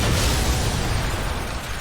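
A flammable-gas explosion set off by a revolver shot in the horror game The Evil Within, heard as a dense, loud, sustained roaring blast that fills the short moment with no voices.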